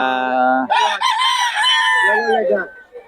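A gamecock crows loudly and close by, one long strained call that rises, holds, and trails off, with a brief cluck at the end.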